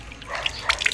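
Water is splashed onto an alloy motorcycle swing arm during cleaning, giving a few quick, close drips and trickles over about a second.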